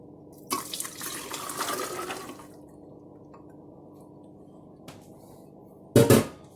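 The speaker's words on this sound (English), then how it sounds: "We're going to go ahead and dump our almonds in." Soaked almonds tumble into a container for homemade almond milk, a wet rushing clatter lasting a couple of seconds, then near quiet before a short loud splash near the end.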